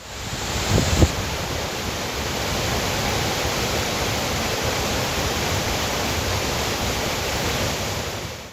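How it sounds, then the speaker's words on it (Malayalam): The Punnayar waterfall drops more than a hundred feet onto rocks, a dense, unbroken roar of falling and foaming water that holds steady and full throughout, with no voices. "നൂറടിയിലധികം ഉയരത്തിൽ നിന്നും താഴേക്ക് പതിക്കുന്ന വെള്ളം പാറകളിൽ തട്ടി പതഞ്ഞൊഴുകുമ്പോൾ"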